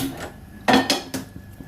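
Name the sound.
chutney being transferred into a bowl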